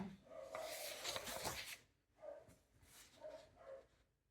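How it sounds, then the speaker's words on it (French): A dog barks a few times at a distance, short muffled yaps spaced out over a quiet background. "un chien c'est fait pour aboyer, surtout si c'est pour protéger"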